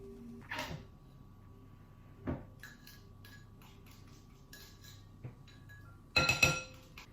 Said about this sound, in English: So what I'm going to do first is put my butter and sugar into the bowl.